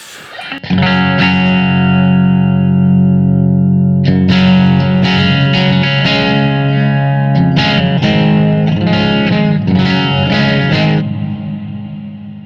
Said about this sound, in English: It's a lot of reverb.